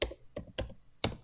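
Close keystrokes on a computer keyboard while a file is edited in the nano editor on Linux: four distinct taps in an uneven rhythm, each sharp and isolated, with no talking.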